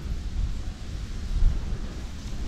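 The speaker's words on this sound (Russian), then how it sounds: "Даже тут, на реке, среди деревьев, ветер чувствуется." Low, rumbling wind buffets the microphone outdoors on a small river among trees in late autumn, steady and moderately faint, with no voices.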